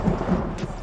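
A thunder sound effect in a show promo gives a brief, low rumbling crack with a rain-like hiss beneath it, loud and dense with no voice over it.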